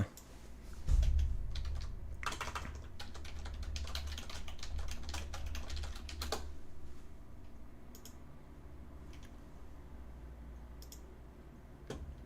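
Rapid typing on a computer keyboard clatters nearby in quick bursts, busiest early on and thinning to scattered key taps over a low background hum.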